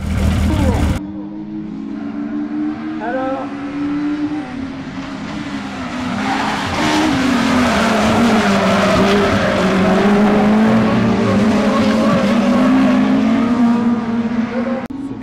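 Rallycross race cars roar at the Dreux round of the French rallycross championship, engines revving loudly and tires squealing in long skids, with a thick, continuous wall of motor noise close by.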